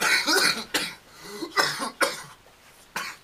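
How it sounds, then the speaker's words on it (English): A series of harsh coughs rings out close up, about six sharp bursts with short gaps between, no talking. "Yeah, you'll have that sexy cough."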